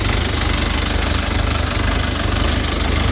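A Lovol 354 tractor engine idles steadily, loud and close, with an even low chugging rhythm and no voices.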